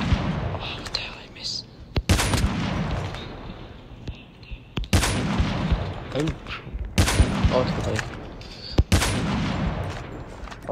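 Gunfire rings out in a battle royale video game, with sharp loud shots and short bursts recurring every couple of seconds across the match, set against game ambience and a player's quiet talk.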